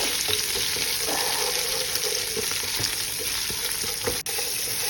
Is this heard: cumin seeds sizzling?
yes